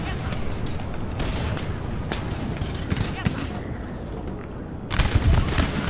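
Musket volleys from infantry lines in Napoleon Total War crackle and boom in a dense, continuous battle din, with a heavier burst of shots near the end.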